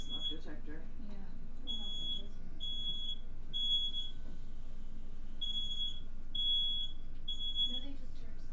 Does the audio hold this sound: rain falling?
no